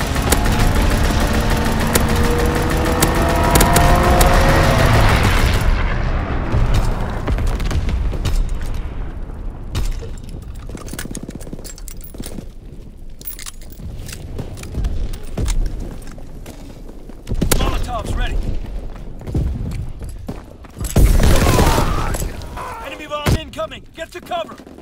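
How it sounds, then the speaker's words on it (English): Aircraft strafing run with gunfire in the Call of Duty: WWII Sainte Marie du Mont map, a loud dense roar and rumble for the first few seconds, then scattered booms and bursts of fire over a rumbling battlefield. "Strafing run inbound."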